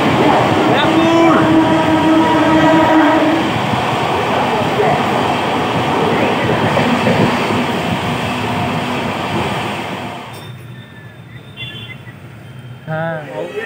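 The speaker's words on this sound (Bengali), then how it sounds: "এখন আমাদের ট্রেন প্রবেশ করছে আমাদের হোম টাউন শহর ব্যারাকপুর" A passenger train running through Barrackpore station, a loud continuous rumble of wheels and carriages that rolls on for several seconds before easing and fading toward the end.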